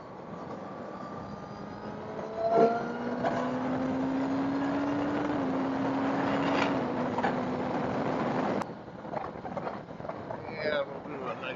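A Kawasaki Ninja ZX10R cruising on an interstate highway, a steady droning engine note with wind rush, rising slightly as it holds speed, then cutting to rougher wind buffeting; a rider talks over it.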